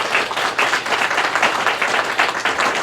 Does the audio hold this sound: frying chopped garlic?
no